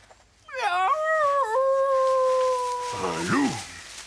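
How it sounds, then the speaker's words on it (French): A wolf howls in a cartoon scene, one long sustained tonal howl rising then holding steady for a couple of seconds, fairly loud and close, breaking into a short whimpering wail at the end. "Un loup."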